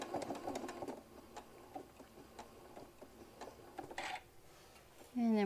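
A sewing machine stitches backward over a seam on a hobo bag, a quiet, rapid ticking run that slows and stops, with faint handling noises and a brief louder whir at the end.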